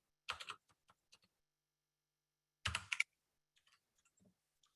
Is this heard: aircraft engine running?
no